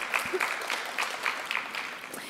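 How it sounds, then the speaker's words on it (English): An audience at a school band concert claps steadily for a couple of seconds, with the applause moderately quiet and somewhat distant. "You can clap, go ahead."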